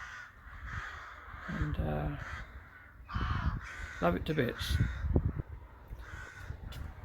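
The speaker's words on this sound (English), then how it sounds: "Excuse the crows." Crows caw repeatedly in harsh bursts near a church, the calls scattered across the moment while someone talks over them outdoors.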